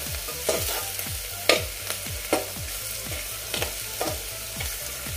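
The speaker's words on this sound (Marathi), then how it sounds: "आता हे मसाले सुद्धा आपण फक्त 1-2 मिनिट परतूया तेलामध्ये" Whole spices sautéing in hot oil in a pan for a mixed dal amti, with a steady sizzle and regular rhythmic scrapes of a spoon stirring roughly every half second, close and alone.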